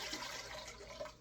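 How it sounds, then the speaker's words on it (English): Two cups of warm water poured steadily into a bowl for Italian bread dough, a faint continuous splashing stream with no talk. "you're going to add 2 cups of warm water"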